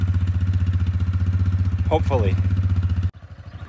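Yamaha Grizzly 450 ATV engine idling steadily and close up with a rapid even putter, briefly under a spoken word, then cutting to a lower, rougher idle near the end.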